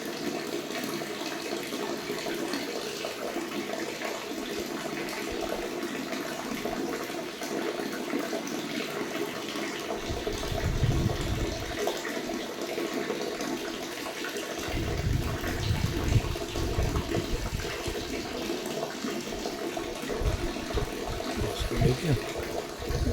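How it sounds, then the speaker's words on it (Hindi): Water trickling slowly from a tap, a thin steady flow with a few louder gushing patches, heard up close in a room with faint background noise. "देखो धीरे धीरे पानी आ रही है"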